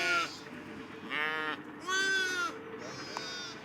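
Newborn lambs on a farm bleat in four loud, wavering calls close by, each lasting about half a second to a second with brief gaps between.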